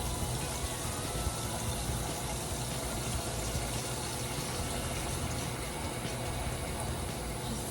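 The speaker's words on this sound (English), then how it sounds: "So I'm just gonna put some cold water in here now." Cold tap water runs steadily into a container, a continuous broadband gushing rush that holds even and fairly loud throughout with no voices.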